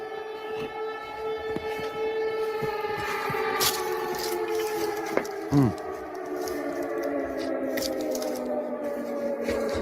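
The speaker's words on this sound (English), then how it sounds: "So this is the sirens as they're going." Air raid sirens wail loud and sustained, their layered tones rising and falling together over a steady background with no talking.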